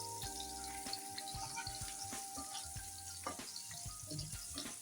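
Hilsa fish wrapped in banana leaf fries gently in a pan over a low flame, giving a steady, close sizzle dotted with small crackles and pops, with no talking.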